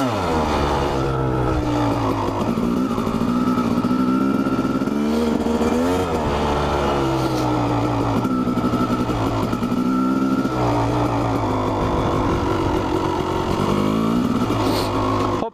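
A Honda CR 250 dirt bike ridden on a slippery, icy trail, its engine loud and close throughout, rising and falling in pitch as the throttle opens and eases without a break.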